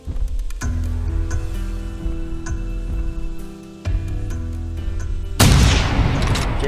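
Gunfire in The Hunter Primal aimed at a T-Rex: sharp shots cut over a droning game background, with a loud, noisy blast near the end.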